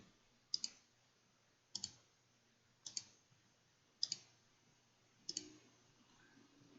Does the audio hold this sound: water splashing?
no